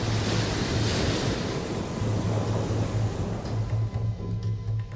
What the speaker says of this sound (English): Sandy's storm surge dumps 500 million tons of Atlantic water on New York City